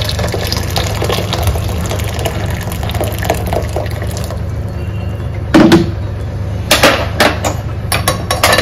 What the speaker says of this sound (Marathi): आणि गरम पाणी ओतते.